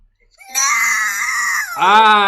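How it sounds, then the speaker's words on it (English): A screaming toy goat gives a loud, sustained bleating scream, a short faint sound followed by a long shrill wail and then a lower, wavering cry. "It's a screaming Abigail"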